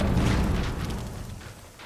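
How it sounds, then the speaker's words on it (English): A deep, heavy boom from an explosion in the film Munich hits at once and then rumbles and decays over about two seconds, loud and alone with no voices. "We tried to treat each explosion differently because there's a number of them in the film"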